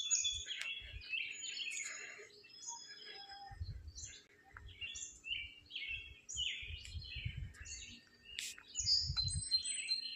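Several birds chirp and tweet in overlapping bursts in a park, with occasional low rumbling underneath and no voices.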